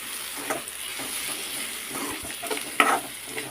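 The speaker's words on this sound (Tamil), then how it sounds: "கொஞ்சம் நேரம் வதங்கட்டும் நல்லா" Vegetables sautéing in a pan, a steady close sizzle with occasional stirring scrapes and one sharper clink near the end, no speech.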